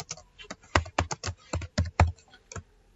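Quick bursts of keystrokes on a computer keyboard while typing into Microsoft Word, close and crisp, with short uneven pauses between clusters of taps.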